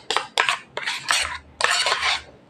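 A spoon scrapes and clinks against a bowl in four quick bursts, mixing two spoonfuls of conditioner with vinegar into a hair treatment for damaged hair, close and loud with no talking.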